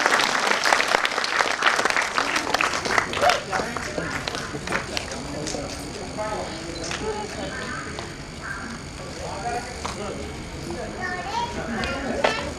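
Audience clapping hands at a speech event on cow protection in Dehradun, a broad crackling wash of applause strongest at the start, then thinning under ongoing talk and murmuring voices.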